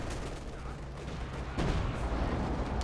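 Dense bursts of gunfire and distant explosions rumble in a Company of Heroes 2 battle, a continuous loud barrage that swells sharply halfway through.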